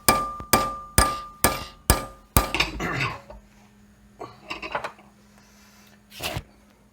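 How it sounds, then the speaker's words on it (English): A hammer strikes a nail set on a Bestop tension cable repair, about six sharp metallic blows in steady rhythm, close and loud, followed by quieter clanks and shuffling with no voices. "can I film this and smack it with a hammer at the same time?"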